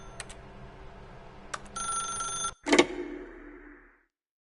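A telephone rings in the video game The Stanley Parable, a bright electronic ring in short bursts with a sharp click as it cuts off, then a fading tone and silence.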